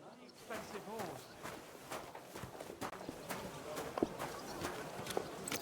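Steady clip-clop of horse hooves on a hard surface in the video game Kingdom Come: Deliverance II, a regular walking rhythm, with a busy background of faint voices.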